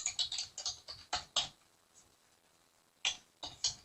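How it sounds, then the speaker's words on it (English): Quick bursts of close keyboard typing on a computer, several rapid keystroke runs, then a pause and another short flurry of clicks. "I'm typing in the Debtbox."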